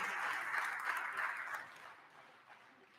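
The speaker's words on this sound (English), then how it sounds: "Would you please give them a big old round of applause?" Applause from members in a state House chamber during a floor session, honoring a basketball championship team; a soft, distant patter of clapping that fades away after about a second and a half.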